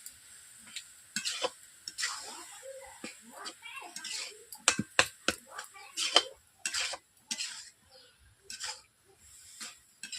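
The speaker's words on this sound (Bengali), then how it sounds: "তার জন্য আমি অল্প আঁচে কপিটাকে কষে নিচ্ছি।" Cabbage being stir-fried over low heat for a Bengali cabbage and potato dish, with scraping stirs and clinks of a utensil against the pan over a soft sizzle in an irregular rhythm.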